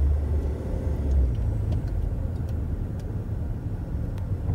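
A hybrid car, its combustion engine charging the battery while it drives the wheels, accelerating steadily: a continuous low engine rumble with a smooth drone and no talk.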